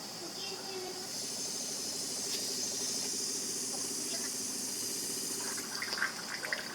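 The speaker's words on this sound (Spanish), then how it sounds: "Se está purgando y solamente es cuestión de esperar un momento más para empezar a ver gotear" A reverse osmosis water purifier with new carbon filters purges water through its lines, giving a steady, moderately quiet hiss of flowing water that runs continuously with faint clicks near the end.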